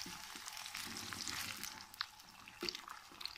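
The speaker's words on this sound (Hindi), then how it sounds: "हल्की आंच पे तलेंगे हम, इसका कलर चेंज होने तक। जब ये ब्राउन हो जाएंगे ना उस वक्त तक हम तलेंगे।" Bitter gourd (karela) frying in oil over low heat for a karela gosht dish, giving a steady close sizzle and crackle with a few sharper pops, and no voices.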